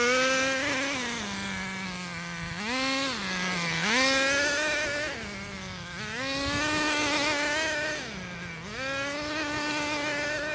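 A Redcat Caldera 3.0 RC car's electric motor whines loudly, its pitch rising and falling in repeated swells as the throttle is applied and let off, without any talking.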